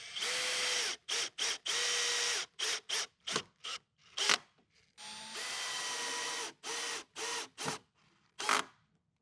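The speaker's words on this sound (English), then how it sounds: "we are going to screw through these 3 markings" Cordless drill driving screws through a cabinet panel during tall cabinet assembly, a series of short high-pitched whirring bursts of varying length with brief clicks and pauses between, close and fairly quiet.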